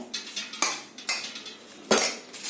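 A spoon clinks and scrapes against a bowl while a vegetable cutlet mixture with bread crumbs is mixed, giving a few sharp close metallic knocks with soft stirring between them.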